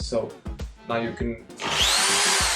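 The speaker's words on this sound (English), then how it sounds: "Now you can drill holding the machine, the hammer drill like this as well." A Makita M0801B hammer drill bores in close up. Someone speaks first over a few short clicks, then the drill starts and holds a loud, steady whirring grind to the end.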